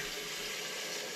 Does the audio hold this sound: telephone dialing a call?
no